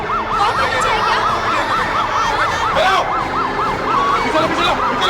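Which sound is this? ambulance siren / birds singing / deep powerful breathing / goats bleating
ambulance siren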